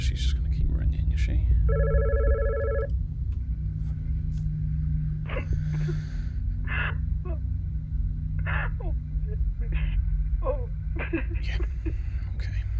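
A telephone rings in the horror video game God's Basement, a steady patterned electronic ring heard near the start over a low rumbling background, with voices talking around it and brief other game sounds following.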